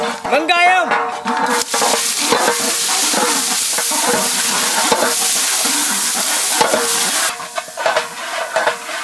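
Onions frying in cold-pressed sesame oil with cinnamon in a village outdoor kitchen, a loud, steady sizzle broken by scraping stirs of a metal ladle against the pan, the hiss surging near the end.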